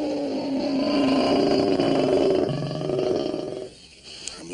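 A lion roars loudly and up close in an old Western television drama, a long sustained growling roar that rises and wavers, then tapers off into a quieter rumble near the end.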